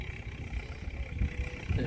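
A tractor engine runs off in the background, a low steady rumble with slight fluctuations carrying on continuously through the short stretch of outdoor sound.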